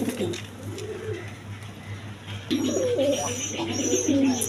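A breeding pair of Bondinet pigeons coos close by in repeated low, throaty phrases, with faint chirps from other birds behind them.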